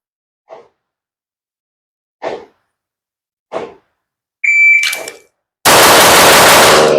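A Sig P211 GTO pistol fires on a shooting range: three separate muffled shots spaced about a second apart, a brief electronic beep, then a loud sustained burst of noise at the end.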